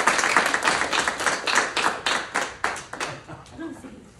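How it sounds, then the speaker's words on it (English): Audience clapping for a performer before a small recital, steady applause with crisp individual claps that tapers off over four seconds, a voice faintly emerging at the end. "Please give a round of applause for Stephen Martin."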